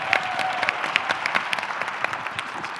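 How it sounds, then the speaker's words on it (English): A panel-discussion audience applauds the panelists, a dense patter of clapping hands at moderate distance that carries steadily through. "Can we give our panelists a round of applause?"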